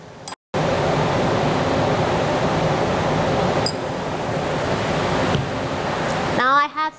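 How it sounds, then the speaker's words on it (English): Distilled water from a squeeze bottle rinses a laboratory pipette, a steady loud hiss of spraying water lasting several seconds, with brief clinks of glassware near the end. "So you can rinse your pipette using a distilled water bottle."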